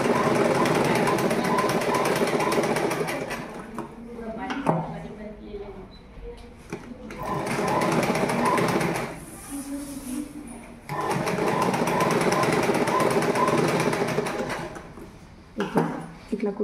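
Sewing machine stitching a folded fabric edge on a school uniform shorts waistband, running in loud sustained bursts with short pauses between runs, under a speaking voice.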